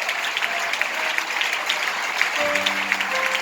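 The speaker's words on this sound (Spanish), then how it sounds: "Denle ese aplauso al Señor." A Pentecostal congregation in Pereira applauds at the close of a church service. The clapping is dense and steady throughout, and sustained musical tones come in near the end.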